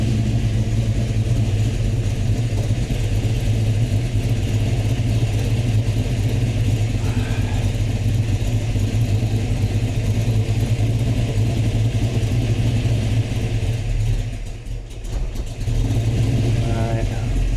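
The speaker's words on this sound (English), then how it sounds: "It's idling by itself there." A 1969 Fastback's engine idling in a garage, a loud steady low rumble that runs on evenly with a short dip and surge near the end, while someone talks over it.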